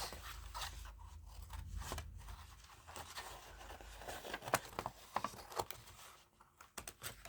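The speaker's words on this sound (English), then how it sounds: "this should be dry now, so I'm going to cut it out" Scissors cut out painted coffee capsule packaging with a series of faint, close snips and crinkling, irregular clicks that grow more frequent toward the end against quiet room noise.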